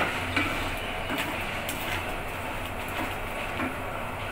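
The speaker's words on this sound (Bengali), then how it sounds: "নারকেল আর চিনিটা অনবরত যেরকম নাড়বো" Grated coconut, sugar and milk are stirred continuously in a pan for coconut naru, giving soft repeated scraping strokes over a faint sizzle.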